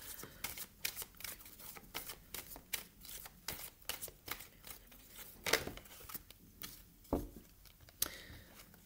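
Tarot cards shuffled and drawn by hand, quiet close-up riffling, slapping and flicking in uneven bursts with sharper snaps now and then, soft and alone without any talking.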